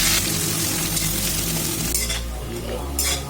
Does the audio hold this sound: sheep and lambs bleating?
no